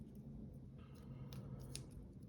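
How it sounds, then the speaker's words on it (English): Scissors are moved aside on a tabletop during trading card handling, giving a few soft, brief clinks and rustles close up over a quiet room, no talking. "Move the scissors off now."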